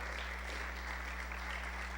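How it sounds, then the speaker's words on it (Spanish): A church congregation applauds in thanksgiving, a steady wash of many hands clapping at a distance, fairly faint over a low constant hum, with no talk. "¿Por qué no le regalan un fuerte aplauso al Señor en acción de gracias?"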